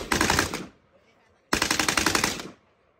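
Gunfire at an outdoor shooting range in two rapid automatic bursts, each about a second of fast, evenly spaced loud shots, separated by a short gap.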